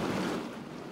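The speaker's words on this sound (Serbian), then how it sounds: "naša ekipa danas je bila na ledolomcu koji je lomio sante leda debljine do 2 metra" An icebreaker boat pushes through river ice up to 2 metres thick on the Danube, making a brief, loud, continuous churning wash of water and engine noise.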